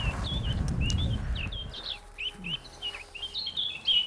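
Recorded birdsong plays from a speaker placed in trees in Cyprus to lure birds for hunting, giving repeated high chirps and short warbled phrases. The song sounds fairly near, with low rumbling noise at first that then falls away.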